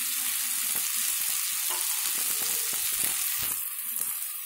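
Fried potato pieces, about 400 grams, stirred in a hot pan for a puri curry, a dense steady sizzle with a few soft scraping strokes of the spoon throughout, close and continuous, with no talking.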